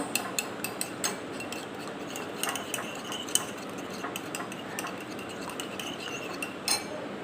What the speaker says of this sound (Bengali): ডিমের মধ্যে লবণ দিয়ে ডিমটাকে একটু ফেটে নেবো